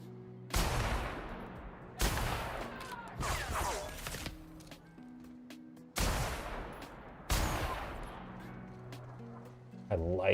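Gunfire in the video game The Outer Worlds, several loud booming shots spaced a second or two apart with decaying reverb tails, under game ambience and occasional voices.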